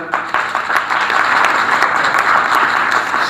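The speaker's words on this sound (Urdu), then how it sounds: "کوائر کے لیے خاص طور پہ کوائر کے لیے تالیاں بجا دیں" A church congregation claps for the choir after worship, a loud, dense and steady wash of applause filling the space from start to finish.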